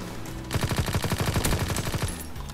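Rapid automatic gunfire in the Call of Duty WWII video game, a steady burst of evenly spaced, loud shots lasting about two seconds, with quieter game ambience before and after.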